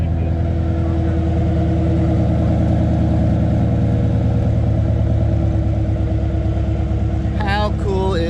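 A Coyote V8-swapped widebody Fox body car idles with a steady, quiet, low burble, running continuously and close by, with a brief higher-pitched sound near the end.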